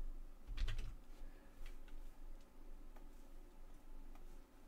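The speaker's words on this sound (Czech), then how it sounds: "Vždycky, když kliknu na dvojitý V." Pressing the W key on a computer keyboard while steering a snake in a Python game: one louder close click followed by faint scattered ticks over low room hum.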